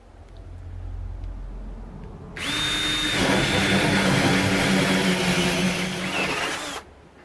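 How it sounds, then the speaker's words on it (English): A hole saw bores through a timber door for a lock fitting, a steady loud whine starting abruptly after quiet room tone, running with a grinding cutting rasp for about four seconds before stopping sharply. "When the drill starts to come through the other side, stop drilling immediately."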